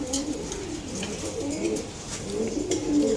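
Several pigeons coo softly and repeatedly nearby in a loft, their low burbling calls overlapping in a steady murmur with faint background noise.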